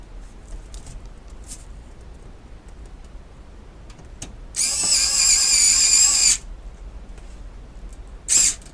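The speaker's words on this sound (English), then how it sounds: "insert the screws into the holes and secure the power supply" Power drill driving screws to secure a PC power supply into a computer case, a loud steady whir for about two seconds followed by a short second burst, heard alone.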